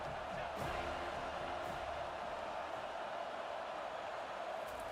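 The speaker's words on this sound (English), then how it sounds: "The crowd is roaring, trying to help this defense on 4th down." Crowd roaring in a college football video game during a fourth-down play, a dense, steady wall of cheering noise throughout, distant and even.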